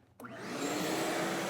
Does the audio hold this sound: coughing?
no